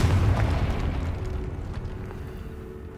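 A Confringo blasting spell bursts in Hogwarts Legacy, one deep booming explosion at the very start that decays into a fading rumble.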